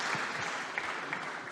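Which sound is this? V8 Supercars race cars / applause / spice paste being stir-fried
applause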